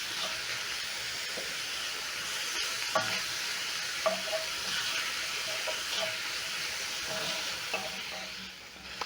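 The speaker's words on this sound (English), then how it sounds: "Cook the onions until soft and the garlic and ginger is fragrant." Onions, ginger and garlic fry in a pan with a steady broadband sizzle, while a utensil stirs and scrapes at intervals, the clicks and taps standing out close and clear over the constant hiss; no voices.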